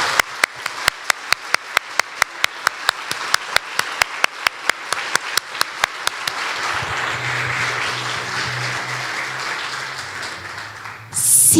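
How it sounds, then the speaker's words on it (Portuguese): Church congregation clapping in unison with a steady, evenly spaced beat, then dissolving into a sustained roar of free applause over a low musical hum, ending on a sharp burst. "Você pode aplaudir ao Senhor?"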